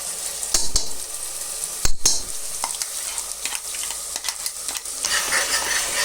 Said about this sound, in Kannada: ಇದನ್ನೆಲ್ಲ ಚೆನ್ನಾಗಿ ಮಿಕ್ಸ್ ಮಾಡ್ಕೊಳ್ತಾ ಇದ್ದೀವಿ.